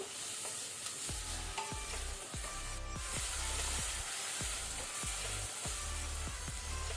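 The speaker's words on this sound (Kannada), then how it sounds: "ಈಗ ಇದನ್ನು ಮೀಡಿಯಂ ಫ್ಲೇಮಲ್ಲಿ ಸ್ವಲ್ಪ ಲೈಟ್ ಕಲರ್ ಚೇಂಜ್ ಆಗೋ ತನಕ ನಾವು ಫ್ರೈ ಮಾಡ್ಕೊಳ್ಬೇಕು" Cauliflower pepper fry sizzles in a pan over a medium flame, a constant frying hiss broken by a regular rhythm of spatula stirring and scraping strokes.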